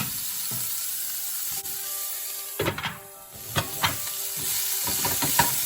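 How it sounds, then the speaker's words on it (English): Flat beans frying with spices in a pan, with a soft background sizzle broken by several sharp scraping stir strokes in the second half, close by and with no voices. "So we'll mix this with the spices."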